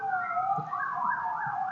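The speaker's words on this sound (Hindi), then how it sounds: "चलो सायरन बोल रहे हैं किसी चीज़ का" An emergency siren sounds outside, a steady wailing tone rising and falling, moderately loud and continuous through the short stretch with no talk over it.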